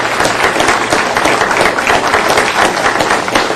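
Dense, steady applause from an audience at a Butte County supervisors' meeting, many hands clapping at once in an even wash that holds at full strength for several seconds.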